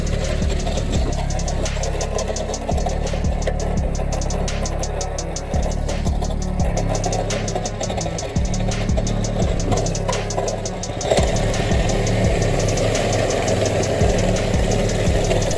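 A minibike's small engine runs steadily at close range with the clutch held in, giving a loud, continuous rough idle with knocking pulses and some wavering in pitch, no speech.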